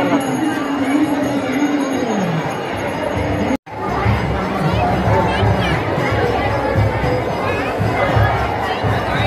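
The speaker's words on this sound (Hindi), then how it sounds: "देवी माता के अंदर जब धूप लगाने जाते हैं तो वहाँ कितनी भीड़ है" A crowd chatters at a hill temple fair where worshippers queue to offer incense to the goddess Durga. A steady, close hubbub of many voices runs throughout, and a brief break is followed by someone speaking.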